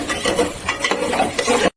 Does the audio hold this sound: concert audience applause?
no